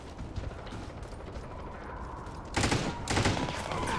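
Gunfire in the online shooter Warface, with a constant wash of game noise and a couple of loud bursts of shots toward the end.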